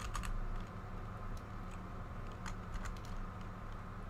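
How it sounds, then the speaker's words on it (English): Someone types code on a computer keyboard while playing Kerbal Space Program with the Kerbalism mod: faint, scattered key taps sit over a steady low background hum, with no voices. "Type in the code first."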